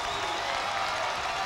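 A basketball arena crowd cheers and applauds steadily in a dense, continuous roar late in a close game, fans on their feet, with no break in the noise.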